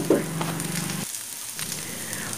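Onion rings fry lightly in a pan to half-cooked, giving a close, steady sizzle that briefly drops away and then returns, with no voices.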